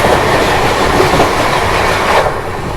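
Daund–Gwalior Weekly Superfast Express rushing past at a crossing, a loud, continuous roar of rolling coaches with rhythmic wheel clatter, heard close by from another train and fading slightly at the end.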